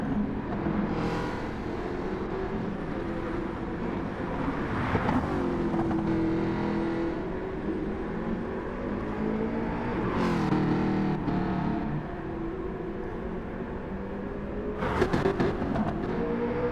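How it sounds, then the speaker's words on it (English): A Jaguar race car engine in the video game Gran Turismo 7 at Bathurst revs and drones continuously, with pitch rising and falling through gear changes and sharp louder surges as it accelerates. "Seems to be revving out as well at the moment."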